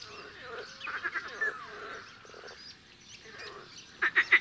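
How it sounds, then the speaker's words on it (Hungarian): Edible frogs give bleat-like spring mating calls in a wetland, faint scattered croaks through the middle and a loud burst of three quick pulses at the end. "Tavasszal a szerelemittas békák hanghólyagjaik felfújásával messzire hallatszó, mekegésszerű hangot adnak"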